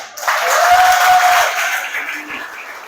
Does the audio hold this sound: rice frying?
no